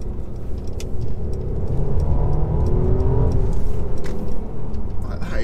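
A 2019 Mercedes E450 coupe with 4MATIC drive accelerates hard, its engine note swelling steadily under a low, continuous road rumble for several seconds, heard from inside the car.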